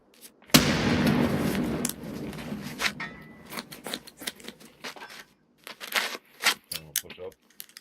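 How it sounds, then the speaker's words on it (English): A grenade bursts in a first-person shooter game, a sudden loud blast with a long rumbling tail, followed by scattered sharp clicks and smaller game noises. "I'll throw a nade up there"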